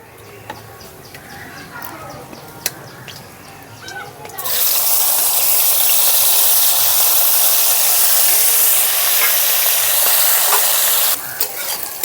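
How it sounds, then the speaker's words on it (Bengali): Shrimp dropped into hot oil bursts into a loud, dense sizzle partway through and keeps hissing steadily, following quieter kitchen sounds and talk. "এখন চিংড়ি মাছগুলো ভেজে নেব"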